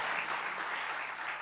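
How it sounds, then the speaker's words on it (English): Audience applause for the city of Istanbul at a blockchain event, dense steady clapping from a large crowd filling the whole short stretch. "Big round of applause for this beautiful city."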